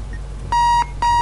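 Two electronic alarm-clock beeps in a video game, each a steady tone lasting about a third of a second, sounding over a low background hum.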